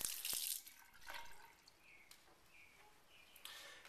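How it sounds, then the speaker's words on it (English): Tap water pours from a faucet into a sink drain while it is being unclogged, a soft steady hiss with a brighter gush at the start and faint drips or clinks scattered through. "if it gets stuck, you can turn on the faucet for a bit"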